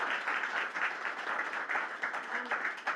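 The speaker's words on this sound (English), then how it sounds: "can I just ask you to give a round of applause for these people?" Conference audience applauding a panel at a side event, a dense, even wash of clapping from a crowd in a hall, continuous and fairly distant throughout.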